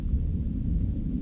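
Air Force military jets rumbling overhead, a deep continuous thunder-like roar rolling from far away, steady and unbroken.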